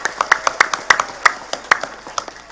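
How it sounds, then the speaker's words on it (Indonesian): Sparse, uneven hand claps from a small crowd of villagers at a community gathering, separate sharp claps repeating quickly rather than a full roar of applause. "Saya minta tepuk tangan dulu kangge warga Kampung Bubutulan."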